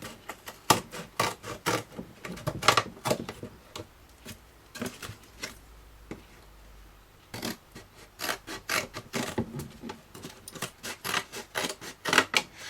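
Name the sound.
scissors cutting off the rest of a juice carton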